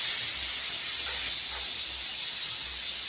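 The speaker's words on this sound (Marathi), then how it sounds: "कुकरचा सिटी आवाज येत आहे" A pressure cooker vents steam in a home kitchen, making a loud, steady hiss that runs without pause or talk.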